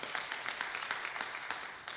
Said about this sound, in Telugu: అందుకు ఒకసారి చప్పట్లు కొట్టండి మనం అందరం కూడా